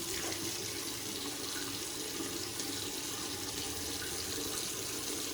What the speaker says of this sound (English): Let's wet the face and we'll get to lathering.